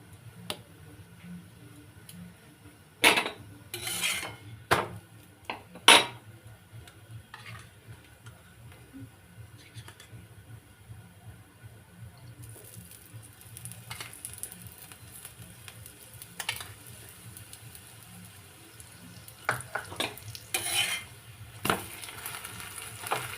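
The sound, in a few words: aloo paratha frying and being turned in a pan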